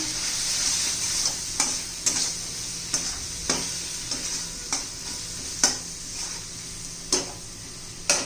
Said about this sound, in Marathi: माझा होममेड मसाला हळद छान असं मिक्स करून घेऊया